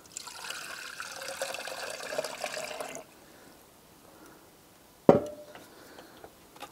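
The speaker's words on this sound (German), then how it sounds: "Jetzt brauche ich hier dazu 300 Milliliter Wasser" Cold water for pizza dough pours steadily into flour for about three seconds, followed by near silence and then a sharp knock and brief clatter.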